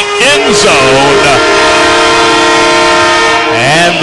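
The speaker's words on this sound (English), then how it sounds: "their big steam, kind of a steam whistle. That's what they do to celebrate a touchdown." A loud steam whistle blown at a high school football game in Texas to celebrate a touchdown, one long sustained blast over crowd noise, with voices over the start and end.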